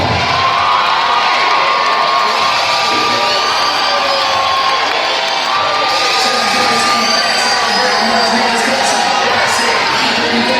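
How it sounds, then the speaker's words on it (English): A boxing arena crowd cheers and whoops loudly and continuously for a boxer entering the ring, with shouts and whistles rising above the roar. "big crowd. Noise for Stephon the Surgeon Morris."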